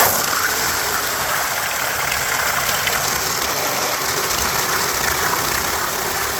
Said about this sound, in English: you crank this up and down until it stops